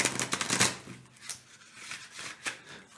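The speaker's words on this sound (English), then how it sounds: "I trained a little bit to shuffle the cards like this." Slightly sticky-surfaced tarot cards are shuffled by hand in a quick series of soft riffling flutters and taps, close and fairly quiet.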